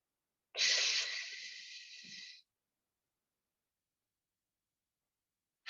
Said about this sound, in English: Let us all take a good deep breath.